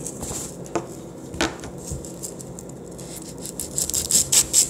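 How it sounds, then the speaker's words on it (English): An onion is diced with a knife on a board: scattered sharp cutting taps, growing into a quicker run of crisp chops toward the end, with no one speaking. "Actually going to start dicing up my onion."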